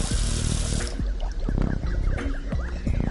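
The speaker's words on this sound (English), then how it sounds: "A faucet. No sink is complete without one of these." Water from a faucet in the Adventure Time video game runs and splashes into a sink, a steady close pour with dripping, bubbling spatters throughout, without talk.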